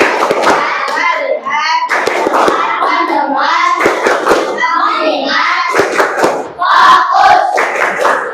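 Schoolchildren in a classroom chant together while clapping hands in rhythm, the group voices loud and continuous with sharp clap hits punctuating the chant.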